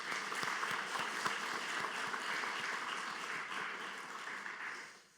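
A church congregation claps for the choir and the worship team during a Sunday service, a steady, fairly faint and distant wash of many hands that holds for several seconds and then stops abruptly.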